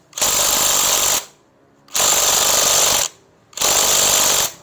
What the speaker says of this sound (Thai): ใช้บล็อกไฟฟ้ายิงเข้าไปเลยนะครับผม ยิงแน่นๆเลยนะครับ